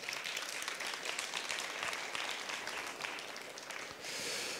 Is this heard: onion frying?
no